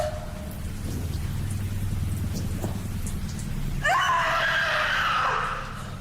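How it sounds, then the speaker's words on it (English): Steady video game rain hisses throughout, joined partway by a brighter burst of splashing or wind-like noise; no voices. "Again, the rain comes."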